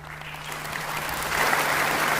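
An audience at a political gathering in Indonesia breaks into steady applause, dense clapping that swells louder toward the end and carries on without talk.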